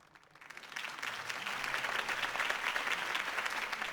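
A crowd in the video game Batman: The Telltale Series breaks into applause, the clapping swelling quickly and holding steady as a dense, continuous roar of many hands.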